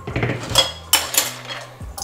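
Dishes and cutlery loaded into a home dishwasher, with several sharp clinks and clatters of plates and metal utensils in quick succession, close and fairly loud, with no voices.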